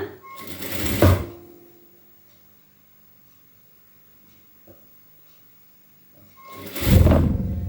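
A sewing machine stitches the sleeve of a blouse with two close bursts of rapid mechanical whirring, one at the start and one at the end, separated by several seconds of near silence.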